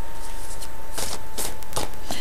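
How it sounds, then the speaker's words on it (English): Tarot cards are shuffled by hand in a few quick riffling bursts against a steady background hum, with no voices. "I do my shuffles here live online"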